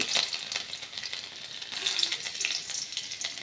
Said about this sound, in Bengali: এই তেলের মধ্যেই ফোড়ন দিয়ে দিলাম অল্প পরিমাণে কালো জিরে, আর দিয়ে দিলাম একটা শুকনো লঙ্কা। এবার এর মধ্যে দিয়ে দেব 6-7 কোয়া রসুন।